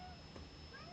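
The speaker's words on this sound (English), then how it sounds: "that was just my cat." A single short meow from a cat, quiet and close, in an otherwise calm room.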